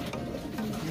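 A racing pigeon coos steadily in its loft, low throaty calls rolling one into the next at close range with no voices over them.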